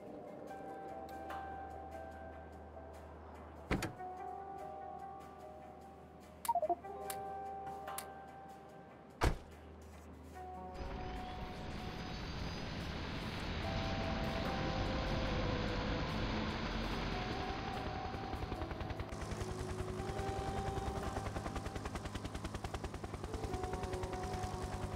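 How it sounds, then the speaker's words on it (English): Helicopter in the video game Factorio: after sparse clicks and sharp ticks, a dense engine drone starts about halfway and holds steady and loud to the end, with a brighter layer joining later. "Let's take the chopper."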